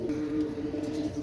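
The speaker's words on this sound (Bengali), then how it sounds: "একজোড়া পাকিস্তানি চুহা কবুতর" A pair of Pakistani chuha pigeons coo softly up close in a brief, steady low murmur, with no voices over it.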